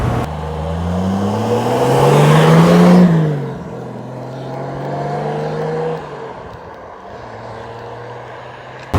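A Triumph GT6 sports car engine revs up and pulls through its gears while driving, the pitch climbing then dropping, loud and close, with a brief lull before it picks up again.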